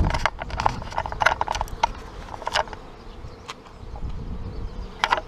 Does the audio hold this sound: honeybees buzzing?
yes